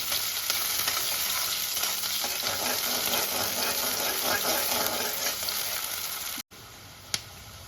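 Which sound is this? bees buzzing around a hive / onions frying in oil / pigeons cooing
onions frying in oil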